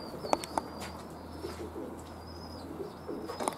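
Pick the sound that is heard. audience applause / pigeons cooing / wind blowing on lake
pigeons cooing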